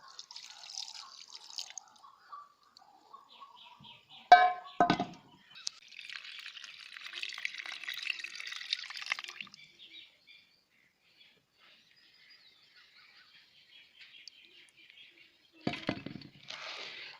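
Squeezed aloe vera juice trickles and drips into steel powder, thin intermittent splashes and drips close by, with a couple of sharper clattering bursts between quieter stretches.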